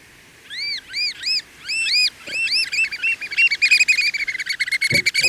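A bird heard out in the countryside beyond city limits gives a series of clear, ringing, arched whistles that grow into a fast, rising chatter, loud and close, with no voices.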